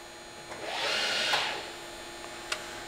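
A 2002 RAS 73.30 Flexibend CNC folder with a 6000 system clamps sheet metal, producing a rising and falling hydraulic whoosh of about a second over a constant machine hum, with a couple of faint clicks.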